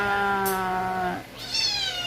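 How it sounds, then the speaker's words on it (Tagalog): A cat meows loudly and close by, one long drawn-out meow followed by a second rising, higher-pitched cry after a brief pause. "ang ingay ng pusa"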